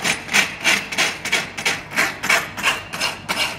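A farrier's rasp drawn across a horse's hoof in long, even strokes, producing a steady rhythmic scraping of about a dozen close, loud passes.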